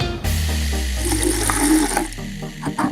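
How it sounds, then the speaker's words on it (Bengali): Water streams from a tap or jug into a bubble solution mixture, a continuous close pouring splash with faint clinks, lasting a few seconds. "এই দেখুন, কিছু পরিমাণ জল এর মধ্যে দিচ্ছি।"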